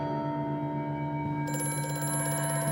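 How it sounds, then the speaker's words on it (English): A loud, high-pitched telephone rings inside the horror game Amnesia: A Machine for Pigs, a sustained shrill tone over a low droning background, with a brighter buzzing ring cutting in partway through. "That loud, high-pitched phone noise just kind of cuts through the tension"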